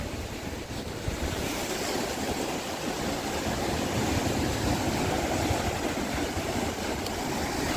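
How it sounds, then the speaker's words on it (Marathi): Sea waves crash and surge in a steady, loud roar of surf at Harnai beach near the fort, mixed with wind noise, with no voices present. "पाण्याचा जास्त आवाज येतं. तुम्हाला लाटा दाखवता येतं बघा"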